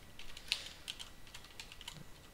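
Quick, uneven keystrokes on a computer keyboard while code is entered, a short burst of light clicks with a few sharper taps, close and alone with no talking.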